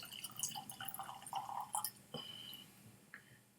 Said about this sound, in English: Let's pour a dram of this.